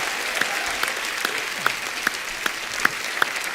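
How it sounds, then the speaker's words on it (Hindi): Studio audience applause on a comedy talk show, a steady roll of clapping with a few louder individual claps standing out at regular intervals, and no talking. "चलिए एक बार डॉक्टर साहब के लिए जोरदार तालियां हो जाए।"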